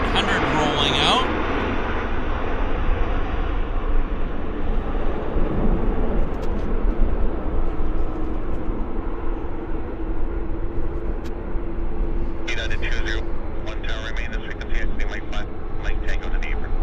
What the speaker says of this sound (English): we've just got a United landing as well. United 737-800 rolling out